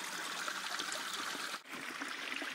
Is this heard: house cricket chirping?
no